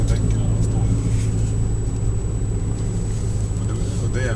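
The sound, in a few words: Saab 9000 car driving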